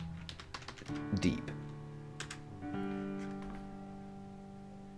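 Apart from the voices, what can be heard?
typing a word on a computer keyboard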